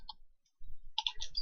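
Touch typing on a computer keyboard gives a few sharp, close key clicks, one isolated tap and then a quick cluster of keystrokes after a short pause.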